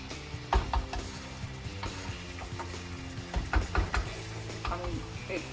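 Chicken korma spices being stirred in a pan, with a close, soft sizzle and irregular scraping and clinking of a spoon against the pan.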